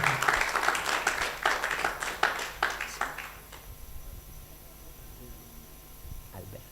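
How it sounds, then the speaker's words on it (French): Applause from a conference audience for a speaker at an AI governance event, a burst of clapping that fades out over a few seconds into quiet room tone with faint background noise. "Docteur Legrand Mata, sous vos applaudissements, s'il vous plaît"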